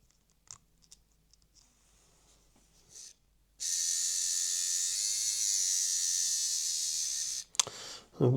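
The lubricated 5-pole motor of a Trix Class 52 model locomotive runs with a steady, high-pitched electric whine for about four seconds, close and fairly loud, after quiet handling clicks, then cuts off.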